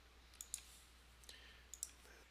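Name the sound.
mouse click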